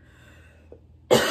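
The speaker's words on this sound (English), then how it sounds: "the heat that's hitting you in the back of the throat and making you cough" A single sudden, loud throaty cough close up, brought on by spicy Flamin' Hot Mountain Dew soda, following a quiet moment with a soft throat sound.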